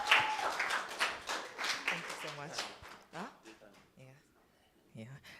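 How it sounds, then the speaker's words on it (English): A seminar audience claps in a short burst that overlaps with people talking, the applause fading within a few seconds as voices continue. "Can we give him a round of applause"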